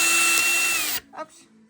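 A power drill whirs at a steady high pitch for about a second, then cuts off, leaving a few faint, brief sounds.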